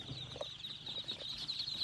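Muscovy ducks, about two thousand being delivered to a converted chicken house, give faint scattered clucks and calls over steady background hiss.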